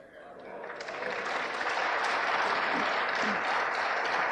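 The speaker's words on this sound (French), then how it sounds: "Aurore Berger, on entend les applaudissements, les critiques, les huées ne sont pas loin non plus." Archival applause fills the French National Assembly during a November 1974 session, a dense, steady wash of many hands that swells over the first second and holds loud, with faint voices and murmurs mixed underneath.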